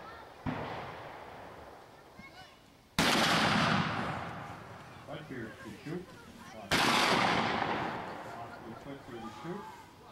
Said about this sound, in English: Joel Wires to shoot.